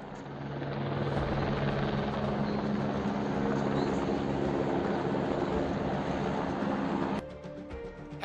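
A helicopter flies over the Rishi Ganga river in a mountain valley, its steady loud rotor thrum and engine roar continuous for several seconds before easing slightly at the end.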